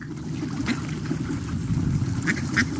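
A duck quacking sound effect plays in the Mind Express 5 Eyeworld communication software, a few short quacks over a steady low hum and watery background, moderately loud and without speech.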